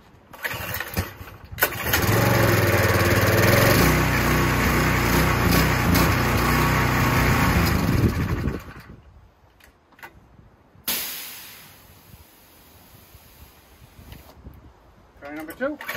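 A pressure washer's small engine is pulled and catches with the choke on, running loudly for several seconds before sputtering and dying, followed by quieter handling noises and a brief voice.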